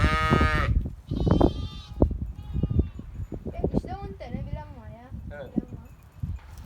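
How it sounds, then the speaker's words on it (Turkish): Merino sheep bleat repeatedly, with wavering, quavering calls from several animals, including a black one, while people talk over them nearby in Turkish in a busy barn. "Bak şu kara koyun. Kara kara merinos."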